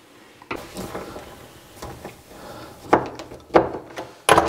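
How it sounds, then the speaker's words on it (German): Hinges being unscrewed from a refrigerator cabinet body, heard as a series of close knocks, scrapes and tool clatters at irregular intervals, with a sharper clack at the end and no talking. "Jetzt schraube ich noch die Gelenke vom Korpus ab."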